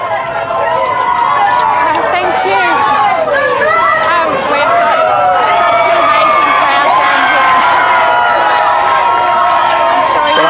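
A large crowd of election-night supporters in Queensland cheers and shouts continuously, loud and close, with whoops and overlapping voices filling the whole stretch.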